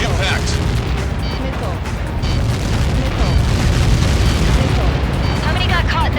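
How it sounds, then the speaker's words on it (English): Ace Combat 7 game audio: a massive blast roars as a dense, sustained rumble with booming bursts, loud and continuous, mixed with radio chatter and aircraft noise. "How many got caught in that explosion?"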